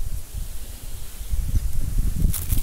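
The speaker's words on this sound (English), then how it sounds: "This wind's killing me." Outdoor wind buffets a microphone in low, uneven gusts, rumbling steadily and close throughout with no speech.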